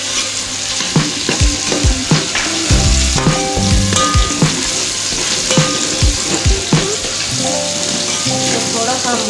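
Tomatoes frying in a pan with coriander and garlic-ginger paste, a loud continuous sizzle broken by repeated thuds and scrapes of a spoon stirring the mixture.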